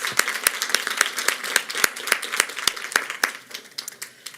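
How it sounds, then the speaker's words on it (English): Applause from an audience honouring students at a Baltimore City Public Schools board meeting, a run of sharp, uneven claps that thins out toward the end, with no talk over it. "Let's please give our students another round of applause."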